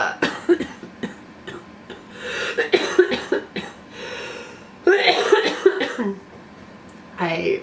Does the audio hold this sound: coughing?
yes